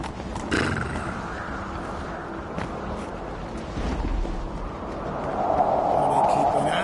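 Roach the horse galloping in The Witcher 3, with a whinny near the start and steady hoofbeats under game ambience, plus a voice speaking over the action.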